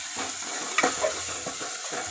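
Fish fries in oil in a pan over a raised gas flame, giving a steady close sizzle with a few scraping stirs and clinks, and no voices.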